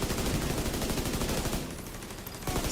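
Rapid automatic gunfire from the video game The Division rattles continuously, dense and sustained, briefly thinning before bursting back in, with no talking.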